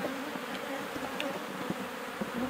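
Honey bees in an open horizontal hive make a dense, continuous buzzing drone that fills the whole moment, close and steady, with no voices.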